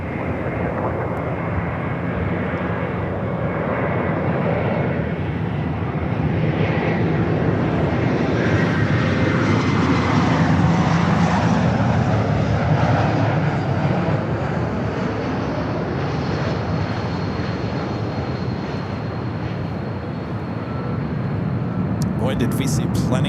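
An airliner rolls and takes off from runway 24 left at Los Angeles airport, a steady broad engine roar swelling and holding for over twenty seconds, with a faint tower radio voice under it.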